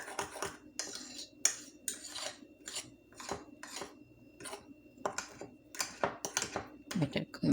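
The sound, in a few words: butter being mashed into waffle mixture with utensil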